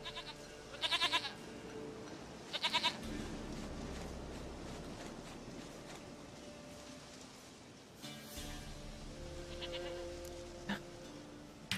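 Short, nasal goat bleats sound in The Witcher 3, one near the start and another a couple of seconds later, over a steady hiss of in-game ambience that a few fainter calls break through later.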